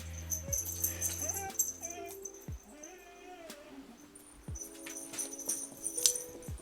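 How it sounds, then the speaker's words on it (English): An excited dog whines and yelps in high, wavering bursts, with sharp clicks and rattles around it at close range, fairly quiet overall. "Another excited dog."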